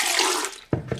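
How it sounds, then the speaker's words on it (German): Soy-rice milk poured into a vegan oil-free dressing, a steady close liquid pour running for most of the second before tapering off, followed by a couple of short splashy sounds. "Dann gebe ich jetzt noch 300 ml Soja-Reismilch dazu."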